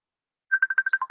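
A phone rings with an incoming call: a steady electronic ringtone of about seven quick, evenly spaced chirps that starts after a short silence, moderately loud and alone.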